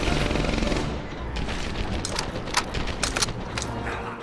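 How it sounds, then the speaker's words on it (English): Machine gun fire in the World War II shooter Medal of Honor Airborne, dense rattling bursts close up with scattered sharp shots, and a voice talking over part of it. "he turned around and fired his MG at me."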